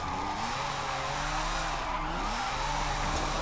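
Formula Drift pack car drifting in a racing video game, continuous loud tire squeal over a steady high-revving engine drone, sustained throughout with no talking.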